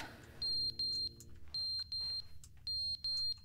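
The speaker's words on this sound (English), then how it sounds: "What's that alarm, though?" Electronic alarm in the video game The Stanley Parable, sounding in clean, high, piercing beeps grouped in pairs and triples, with a faint background hum and no speech.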